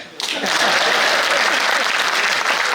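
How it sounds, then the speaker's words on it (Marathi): Applause from the crowd at a Shiv Sena office-bearers' rally, a dense, loud wall of clapping that bursts in after a brief moment and holds steady, with voices mixed into the roar. "टाळ्या वाजवा"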